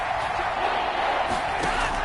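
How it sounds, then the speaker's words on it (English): Football stadium crowd cheering and roaring during a big third-down play, a steady dense wash of voices that stays loud across the whole stretch. "the crowd getting into it as we come up on a big 3rd down"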